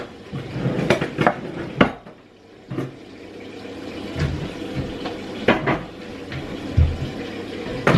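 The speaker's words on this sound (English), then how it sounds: "I have got a few dishes that I need to put away" Dishes, pots and cutlery clatter and clink as they are put away in a home kitchen, with sharp irregular knocks and a cupboard bumping, loud and close, no talking.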